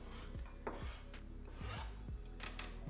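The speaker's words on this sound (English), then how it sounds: "just gonna scrape it aside with my knife here and put it right in my little compost bowl" A knife scrapes vegetable peel aside across a cutting board during plant-based lentil spinach dal prep, a series of quiet, rasping strokes repeated close up.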